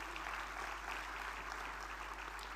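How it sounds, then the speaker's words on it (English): Applause at an international drug regulatory conference, an even, moderately loud patter of many hands clapping throughout, with no voices on top. "Let's have a huge round of applause,"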